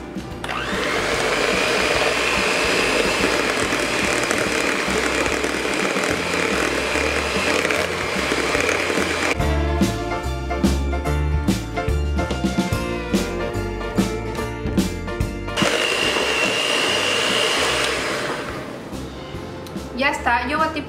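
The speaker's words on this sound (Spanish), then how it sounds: "vamos a incorporarle ahora el queso crema y vamos a volver a batir" An electric hand mixer beats cream cheese into cream for tiramisu, giving a steady high whir. The whir turns choppy and uneven through the middle section, then smooths out again before trailing off near the end.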